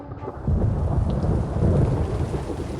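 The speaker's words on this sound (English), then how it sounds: "A distant rumble of thunder rolled over the hills." Distant thunder rumbles low and long over hills and open plains while steady rain falls, and the deep roll swells gradually with no voices present.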